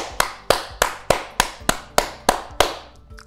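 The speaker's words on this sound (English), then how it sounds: "And clapping." Nine sharp hand claps at a steady, slightly slow pace, close and fairly loud, each one snapping cleanly before the next, with no talking.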